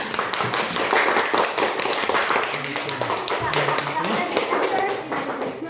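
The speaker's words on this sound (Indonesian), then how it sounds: "Kita tepuk tangan dulu, tepuk tangan" A class of students clap their hands together during a cooking lesson, steady dense patter of many hands filling the room with voices talking over it.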